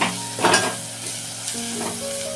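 Goda masala spice mix frying and being stirred in hot oil in a pan, a steady close sizzle with a few scraping stir strokes and no voices.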